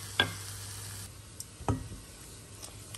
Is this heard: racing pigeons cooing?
no